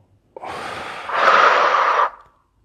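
One deep breath is drawn in slowly through the nose and mouth, close and clear. The airy rush grows stronger midway and then stops abruptly, with quiet before and after.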